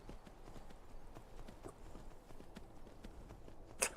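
Horse hooves clip-clopping at a steady walking pace in the video game Skyrim, a soft continuous rhythm of light thuds over grass, moderately quiet, with a brief sharp sound near the end.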